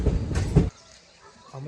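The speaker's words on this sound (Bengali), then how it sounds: "আমাদের ট্রেন এখন এসে পৌঁছালো বাবতপুর জংশন, বাবতপুর স্টেশন।" The 04217 Lucknow Intercity SF Express arriving at Babatpur Junction, a brief rumble of running wheels and carriage noise that cuts off abruptly into quiet.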